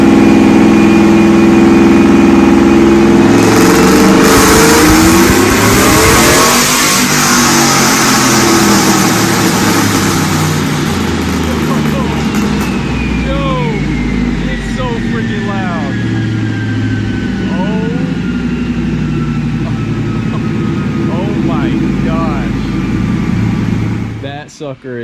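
A cammed 2006 GMC Sierra engine idles loudly and revs repeatedly up close, a heavy lumpy rumble with rising and falling throttle sweeps, with people talking over it.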